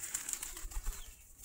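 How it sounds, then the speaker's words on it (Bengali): Pigeons gathered on red soil, pecking and drinking, give off faint, soft cooing with light fluttering and scuffling close by; no one speaks. "এখানে সেই যে কবুতর মাটিও খাচ্ছে"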